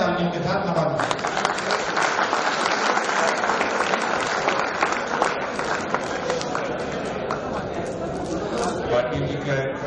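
A mushaira audience applauds steadily and densely for several seconds, with crowd chatter mixed into the clapping.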